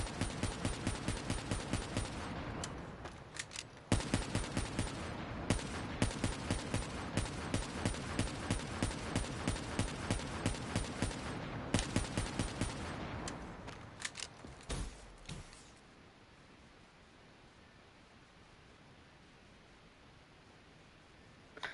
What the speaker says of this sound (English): Just want to shoot this man.